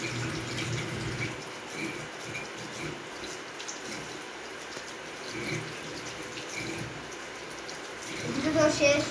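Potato pieces being washed in water, with a steady rush of running tap water and sloshing throughout, growing louder near the end as the pieces are moved around.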